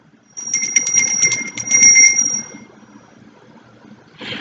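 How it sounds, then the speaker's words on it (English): A small hand bell rings in a rapid series of bright, clear dings for about two seconds, then fades out, followed by a brief rustle. "let them take that bell, ding-a-ling-a-ling"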